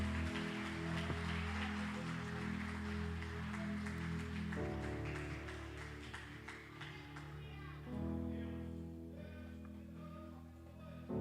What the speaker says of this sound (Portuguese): as palmas bem alegres por Jesus